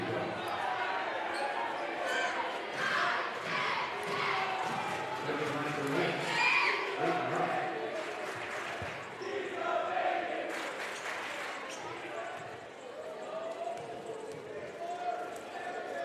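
Busy gym crowd noise at a high school boys basketball game, FHN hosting the Troy Buchanan Trojans, rising into cheers over steady ball bounces and sneaker scuffs, with an announcer talking throughout.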